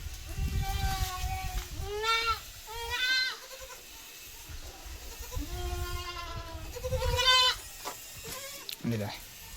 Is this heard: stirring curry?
no